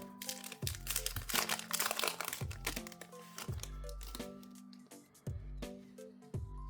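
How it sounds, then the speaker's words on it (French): Crinkling foil of a Pokémon card booster pack being torn open and handled, close and crisp with repeated rustles and tearing over several seconds. "Et on va tout de suite ouvrir le dernier booster."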